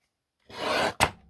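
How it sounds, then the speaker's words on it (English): A paper file folder having its sides trimmed, a short rasping cut lasting about half a second followed by a sharp snap of the blade or paper, close and clear with no talk. "Then we're just going to trim the sides."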